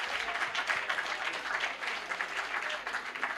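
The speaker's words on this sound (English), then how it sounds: "Let's give them another round of applause" An audience applauds debaters at a national insurance debate final, giving a dense, steady wash of clapping from many hands that continues for the whole few seconds without any break.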